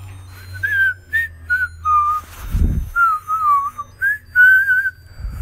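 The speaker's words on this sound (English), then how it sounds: "Look at Rudolph the Red-Nosed Reindeer. This is from the 80s. You ready to listen to it" A 1980s Rudolph the Red-Nosed Reindeer collectible plays its tune in a thin, whistle-like electronic melody of short sliding notes, with a brief low thump midway and soft low hum underneath.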